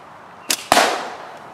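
Two quick sharp cracks a fraction of a second apart from an old school natural slingshot catapult shot outdoors, the second louder with a short ringing tail.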